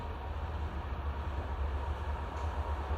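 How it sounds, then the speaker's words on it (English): A train passing by a public talk in Saanen, heard as a steady low rumble with a constant rolling roar that sounds distant and continuous, with no voices. "Oh Lord, there's the train."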